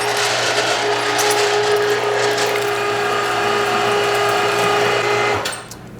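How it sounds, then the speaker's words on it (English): An electric meat grinder grinding pork through a 4.5 millimeter die, a loud steady mechanical whir with clicking, ratcheting gear noise running continuously before winding down near the end, no voices. "As you can tell, my grinder is on right now."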